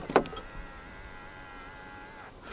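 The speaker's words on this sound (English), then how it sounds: "To lock the car, press the button on any of the front door handles." A 2024 BYD M6 Extended Range locks via the keyless-entry button on a front door handle, giving one brief mechanical clunk near the start, followed by a faint electric whir and low background hum.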